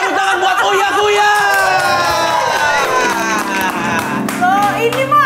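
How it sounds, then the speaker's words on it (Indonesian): Studio audience on a talk show claps and cheers loudly, whoops and shouts rising over a bright musical sting, with a busy crowd din throughout. "Tepuk tangan buat Uya Kuya."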